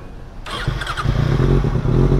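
A 2015 Kawasaki ZX6R motorcycle with a Yoshimura exhaust cranks and fires up close by, settling into a loud, steady idle that grows slightly rougher and louder.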